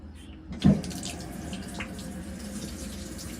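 Cold water running from a tap, starting with a brief splash and then flowing in a steady stream at close range, with no talking over it.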